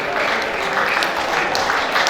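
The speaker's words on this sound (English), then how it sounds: "That applause." Sustained applause from a workshop audience at a mental health act sensitization event, dense and even clapping filling the whole moment without a break.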